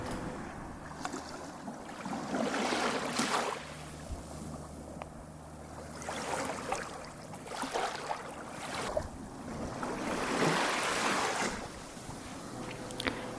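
Sea waves washing onto a beach at Montpellier, surging and receding in broad swells of rushing water with some wind buffeting the microphone, fairly close and with no talking.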